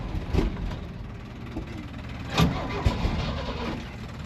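A car engine cranks, then catches and runs unevenly at idle with rough pulsing and a few louder bursts, close and steady throughout, no talking.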